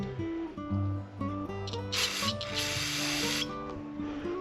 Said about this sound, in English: we're just gonna spray through the jet, clean it out on both sides.